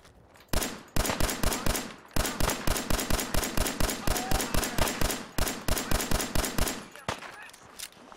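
Rapid automatic gunfire from Fallout 4, loud bursts of evenly spaced shots rattling almost continuously with a few short pauses.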